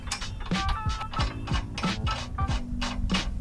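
Nut being fitted onto an M14 80mm bolt while installing a bolt-on track bar correction kit on a 2022+ Toyota Tundra: repeated close metallic ratcheting clicks and scrapes in a steady rhythm, quiet and alone.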